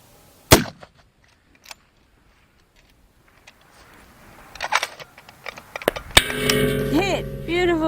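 At long range, a rifle fires at a steel target plate. One sharp, loud report comes first, followed by a fainter knock and some quiet handling noise. Louder clatter and a burst of mixed noise close the clip, with no clear voices.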